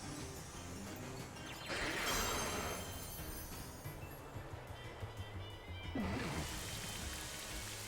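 Rain effect from the Rain Dance move in Pokemon Scarlet and Violet, a steady hiss of falling rain with brief louder swells, under busy game sound effects.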